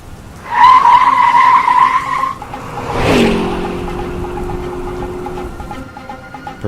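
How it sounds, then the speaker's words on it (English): A battered old car rolls up and over a slight hill on a rainy city street, its tires briefly squealing before a sharp thump and a lower engine drone that fades off. "A battered old car goes up and over a slight hill in the road"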